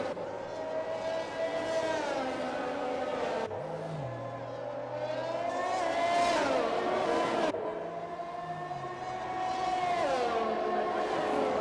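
Formula 1 cars in the F1 2021 video game scream up through the gears at a safety car restart on the Azerbaijan GP street circuit, a continuous loud engine whine rising in pitch with abrupt gear shifts, while a commentator talks over it.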